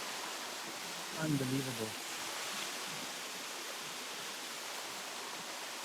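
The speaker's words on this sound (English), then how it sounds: "You can really feel the cold mist coming off of the waterfall." A waterfall on Mt Baker's Coleman Deming route gives off a steady, soft roar of falling water, and a voice briefly speaks over it.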